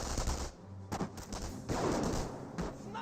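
Bursts of automatic MP40 submachine-gun fire from Volksgrenadiers in the World War II strategy game Company of Heroes, rattling in short irregular volleys with a steady battle din between them.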